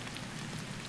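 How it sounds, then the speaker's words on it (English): Steady rain falls as a dense, even hiss of drops on surfaces, faint and continuous with no other sounds. "Man, I hate rain."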